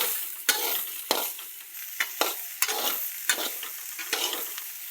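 Food sizzles in oil in a pan while a spoon stirs it, each scraping stroke landing in a steady rhythm over continuous close frying crackle, with no talking.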